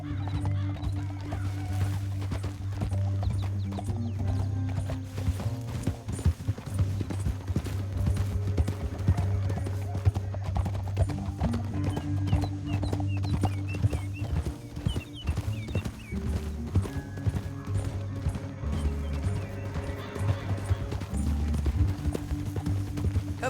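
Steady clip-clopping horse hooves in the video game Red Dead Redemption 2, over a dense musical score, with occasional whinnies and rumbling action effects throughout.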